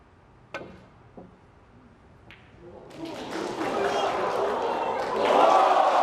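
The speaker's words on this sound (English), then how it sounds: "roars from the crowd" Snooker crowd at the 2019 Shanghai final between Ronnie O'Sullivan and Murphy, starting with a few isolated taps and knocks, then a rising roar of cheering and applause that swells and stays loud to the end.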